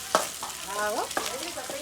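Corn fries in hot oil with a close, continuous sizzle, broken by a few sharp crackles and a brief bubbling burst near the middle.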